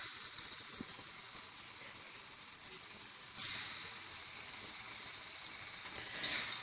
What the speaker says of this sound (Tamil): நான் வந்து ஜிஞ்சலி ஆயிலில் தான் ஃப்ரை பண்ணுறேன்.